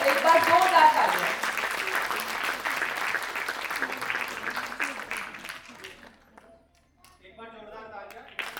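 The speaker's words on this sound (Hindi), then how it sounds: "तो एक बार जोरदार तालियां।" Applause from an audience at a Hindi award ceremony, loud at the start and gradually thinning over several seconds, then fading out into a brief near-silence before a voice begins speaking.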